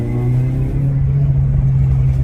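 Renault Clio RS engine held in second gear and revved hard, a loud, steady, close mid-pitched drone with rising intensity over a couple of seconds, no talk over it.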